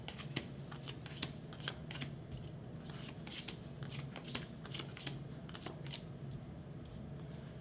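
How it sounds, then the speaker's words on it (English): Cards are shuffled quickly in a rapid run of crisp flicks and riffles, close up and steady, with no talking. "take the critter and construction cards and shuffle them up"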